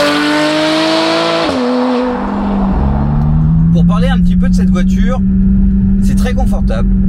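Porsche 991.1 Carrera 4S sports car engine heard while driving, a loud steady drone that drops in pitch after a gear change, then settles into a lower hum with someone talking over it.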